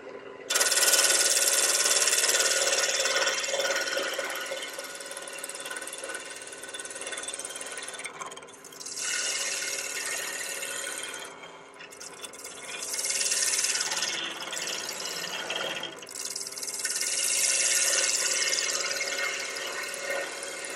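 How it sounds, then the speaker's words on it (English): Roughing gouge scraping across spinning wood on a lathe, a steady loud rasping hiss with brief dips as the tool lifts and re-engages, continuous through the cut. "Now I can do that with my roughing gouge."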